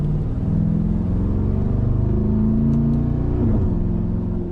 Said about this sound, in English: Just a lot of noise, a lot of V8 grumble